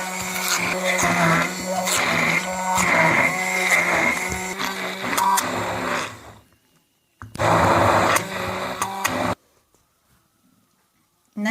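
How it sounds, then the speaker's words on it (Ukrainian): An immersion blender whirs through a cottage cheese mixture with sour cream in bursts, loud and close, with a stop, a second short run, then a pause and a final brief start. "І переб'ємо погружним блендером, щоб не було комочків."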